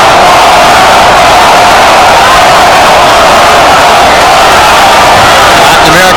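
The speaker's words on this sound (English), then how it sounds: "segment of the crowd chanting Goyo, Goyo, Goyo, trying to give Vargas a little incentive" A dense arena crowd at a Mayweather versus Vargas boxing match chants "Goyo" for Vargas, a loud, sustained roar of many voices filling the whole stretch without a break.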